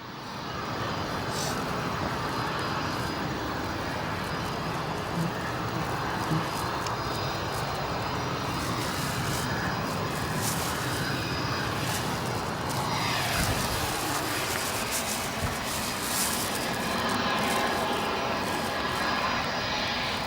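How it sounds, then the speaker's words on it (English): Airliner taxiing on the south side of O'Hare Airport, a steady, loud engine rumble and whine that holds throughout with a faint rising roar mid-clip, no voices. "Let's bring you all over to some taxiing here at the south side of the airport."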